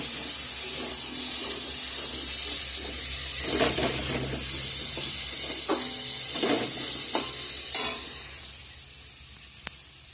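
Peas tossed into a pan of browned potatoes set off a moderate sizzle, with intermittent scraping and stirring strokes that ease off toward the end, no speech.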